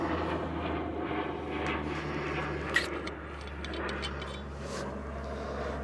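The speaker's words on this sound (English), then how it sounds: "Sorry for the airplane." A distant airplane drones steadily overhead during a hike, a low continuous rumble filling the background with a brief sharp click partway through.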